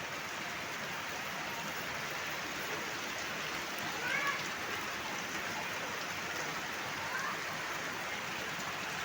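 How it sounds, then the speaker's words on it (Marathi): Heavy rain pours down outdoors as a dense, steady hiss that holds at the same level throughout, with a slight swell midway. "आता एकदम फुल असा पाऊस होऊन गेलाय"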